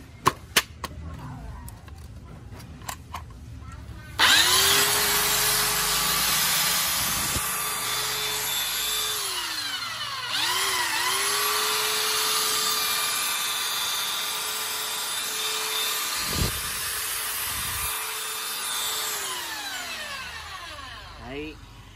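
Unused Makita 9910 belt sander, Japanese-made, with a 76 x 450 belt: a few clicks, then the motor whines up and runs loud and steady for about seventeen seconds, dipping briefly midway before spinning down.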